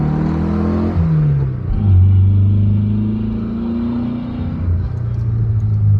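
A car engine revs up and down several times, its pitch climbing and falling, loud and close with no voices.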